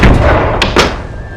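A wooden room door being shoved open, a close heavy thump followed by a couple of short knocking bumps, then quiet.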